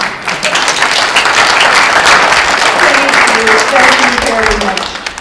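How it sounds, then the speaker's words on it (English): Audience at a lifelong-learning open house bursting into loud, sustained applause, a dense wash of many hands clapping close and full for several seconds before tapering off, with voices mixed into the crowd. "Can we have a round of applause, please?"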